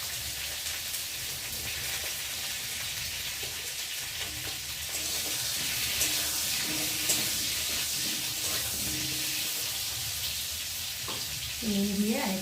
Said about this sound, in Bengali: নুন দিয়ে আর একটু ঢাকা দিয়ে পটলটাকে ভেজে নেব